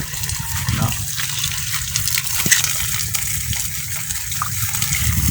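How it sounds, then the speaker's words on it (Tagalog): Strong water gushes steadily from a well to flood a rice seedbed, a constant, loud rushing flow with no break. "malakas ng tubig sa ating balon, no?"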